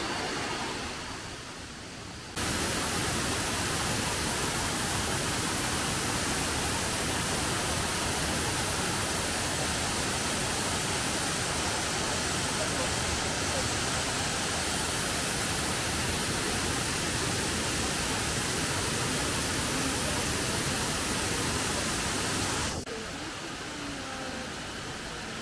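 A large waterfall in Laos roars as a constant, dense rush of water, loud and unbroken, with no voices heard.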